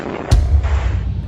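Explosion from a rocket-propelled grenade fired at a mayor's convoy on a street, caught on CCTV: one sharp, heavy blast followed by a loud, sustained low rumble.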